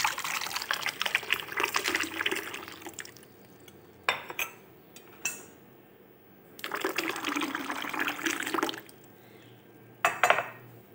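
Blended watermelon juice pours in a thick, splashing stream, stopping briefly amid a few clinks and handling noises, then pouring again in a second run, close up and with no voices.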